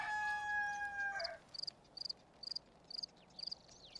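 Rooster crow in the Black & White 2 video game: a sustained, tonal call in the first second, fading away, followed by rapid, repeated chirping bursts, like insects or small birds, that continue to the end.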